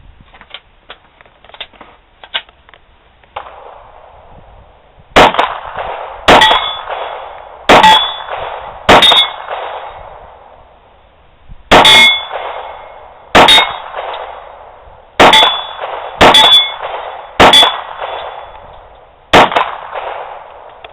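Loud, ringing metallic clangs of 40 caliber FMJ rounds from a Glock hitting a steel target, about ten hits spaced a second or two apart, each ping hanging with a short decaying ring.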